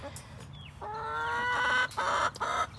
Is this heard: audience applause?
no